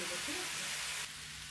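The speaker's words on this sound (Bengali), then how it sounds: "কোয়া এবং তেজপাতা দিয়ে একটু ভেজে নিব" Garlic cloves and bay leaves fry in a pan with a faint, even hiss of sizzling oil that drops slightly in level partway through.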